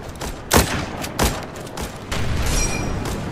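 Gunfire in the war video game World War Polygon, with a few sharp separate shots followed by a denser burst of firing, all at moderate loudness with no talk.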